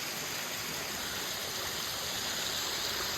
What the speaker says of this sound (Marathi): हे एकदम पाणी पडतंय.